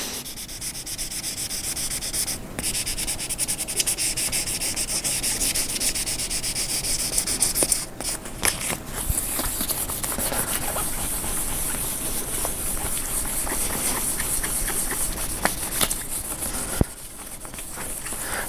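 Sandpaper rubbing over a painted guitar body from a DIY kit, a steady scratchy rasp with rhythmic back-and-forth strokes, fairly close and fairly quiet, with a few brief knocks and no talking.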